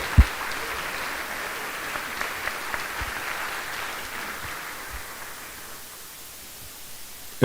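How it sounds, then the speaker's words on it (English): A school audience at a senior scholarship and award event claps for the jazz band in a steady, fairly soft wash of applause that gradually thins and fades toward the end, with a couple of sharp knocks. "So let's give our jazz band and Kelsey Dragosevich a round of applause."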